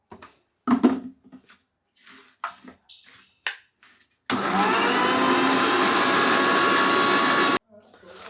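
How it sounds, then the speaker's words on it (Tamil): A mixer grinder runs loud and steady for about three seconds, grinding ingredients for marry me chicken, with brief talk before it starts and after it stops. "இப்போ நல்லா ட்ருன்னு அரைக்கலாம்."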